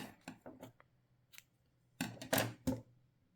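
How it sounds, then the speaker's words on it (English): Scissors snip crochet yarn at close range in a quiet room, with a few light handling taps first and then several crisp cuts in quick succession. "So now we just cut the yarn fast enough."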